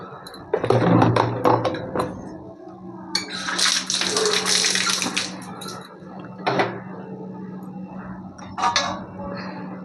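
Water splashes and pours into a pot holding green banana, potato, turmeric and salt, with metallic clinks of the pot and a steady hum underneath, the pouring loud and close in bursts.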